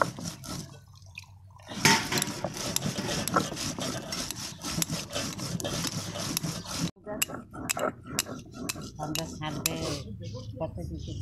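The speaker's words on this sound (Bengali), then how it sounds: "আমি এটা বেটে নিচ্ছি দেখুন" Coriander seeds, cumin and dried red chillies ground into a paste, with dense scraping, knocking and clattering on a grinding surface, steady and close, briefly pausing near the start and midway.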